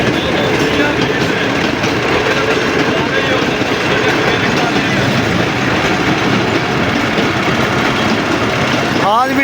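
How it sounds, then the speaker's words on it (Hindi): A passenger train rolls into a crowded station, its steady wheel rumble and clatter loud and close throughout, with a brief squeal near the end and voices mixed into the noise. "ये देखिए जी ट्रेन"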